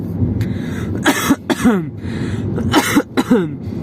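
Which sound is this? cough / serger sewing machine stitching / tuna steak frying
cough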